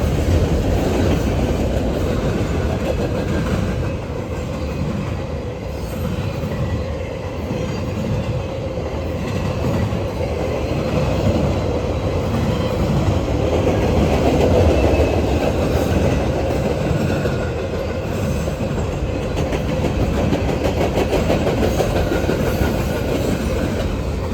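A long Norfolk Southern freight train rolls past close by, steady and loud, its cars clicking rhythmically over the rail joints with faint wheel squeal and no talk.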